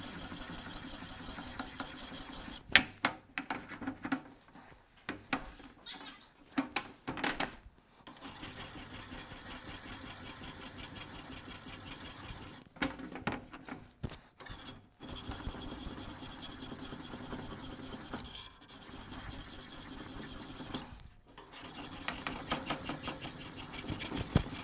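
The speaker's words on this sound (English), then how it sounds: "I am literally just reshaping the belly of this knife" A German knife's belly is being reshaped on a whetstone, with long steady grinding strokes broken by short pauses and quick scrapes, close and continuous, with no talking.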